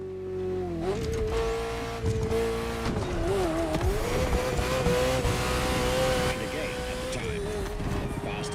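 A Ferrari sports car engine in a racing video game revs and roars at close range, pitch climbing and dipping through gear changes, with tire squeal and a voice talking over it.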